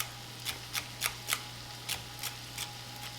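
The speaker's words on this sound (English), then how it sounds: "Give it a nice chop." A knife chops celery on a cutting board in a home kitchen, giving about eight crisp, evenly spaced cuts over a faint steady hum, close and quiet, with no talk.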